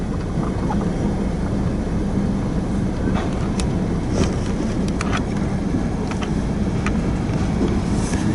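A freight train rolls past nearby, producing a loud, continuous low rumble of wheels and cars with faint clicks and rattles throughout.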